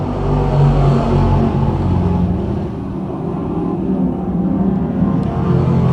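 A field of seven race cars pulls away at the start of an eight-lap speedway heat, a loud, steady engine roar that rumbles and drones without a break and stays close throughout.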